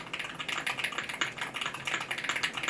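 Steady, fast typing on a budget custom mechanical keyboard fitted with Gateron Jade switches, a close run of crisp, even keystrokes heard alone.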